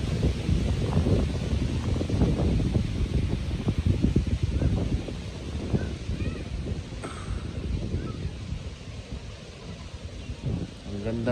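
Outdoor breeze near a dam at a picnic grove, heard as a steady rushing wind noise with low buffeting against the microphone, easing off over time, while someone talks.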